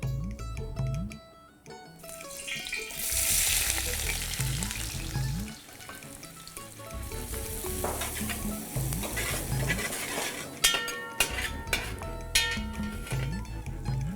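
Sliced onions sizzle and crackle in hot ghee in a pan for mutton pulao. They are stirred now and then with clinks and scrapes of a spoon against the metal, close and steady.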